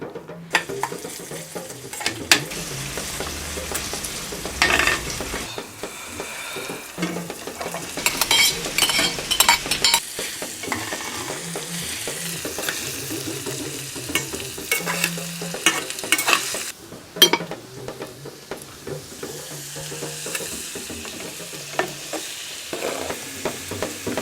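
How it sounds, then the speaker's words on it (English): Onions, carrots and potato fry in a pan while a utensil stirs them, giving a steady close sizzle broken by frequent scraping and clinking of metal against the pan. "Once the onions fry and they're a little bit soft, the next thing to go in would be the carrots and the potato."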